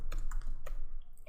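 Keys clacking on a computer keyboard while a database command is entered, a quick run of several close, crisp strokes with short gaps, fairly loud and alone with no talking.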